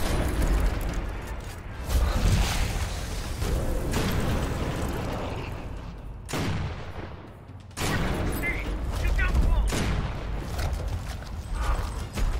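In the Gears of War video game, bursts of gunfire hammer away at enemies, loud and dense, with brief gaps and mechanical clanks between volleys. A voice briefly speaks over the shooting.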